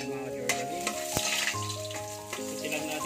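Garlic sautés in a kawali for pinakbet, a quiet continuous sizzle broken by a few sharp clinks and scrapes of a utensil against the pan.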